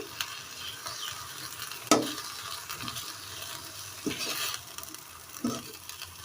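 Leafy greens for a bharta cook lightly with salt in a pan, giving a quiet, low sizzle with a few soft scrapes and clinks of stirring at irregular moments, close by and without talk.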